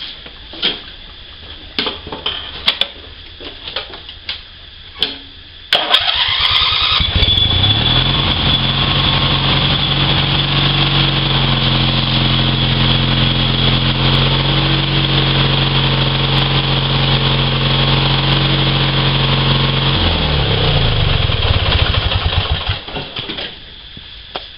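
An 18 HP riding mower engine, 22 years old, cranks and catches after some clattering, then idles loudly and steadily for about fifteen seconds before shutting down.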